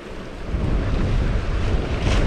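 Strong wind buffets the microphone on a seashore during lure fishing for sea bass, a steady loud roar mixed with breaking surf and rising in gusts, with no voices.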